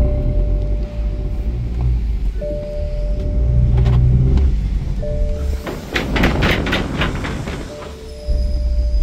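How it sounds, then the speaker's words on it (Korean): The engine of a scrapped BMW 128D is started and left running, giving a loud, close, steady diesel rumble with a brief rougher surge partway through. "현상 시동 걸렸고, BMW 128D 폐차 시동 영상"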